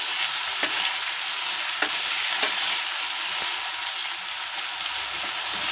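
Potatoes fry with salt in a pan, giving a steady, even sizzle with a few sharp scraping clicks from stirring spread across several seconds.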